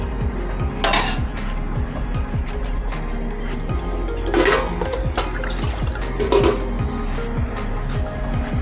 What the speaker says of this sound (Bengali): তো সোয়াবিনে জল দিয়ে দিচ্ছি